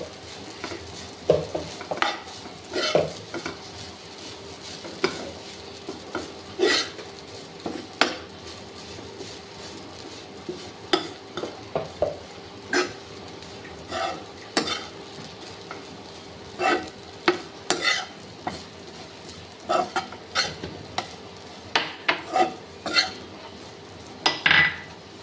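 A metal spoon scrapes and clanks against a pan while chicken, onion and masala are stirred and fried, with steady sizzling beneath irregular sharp knocks throughout.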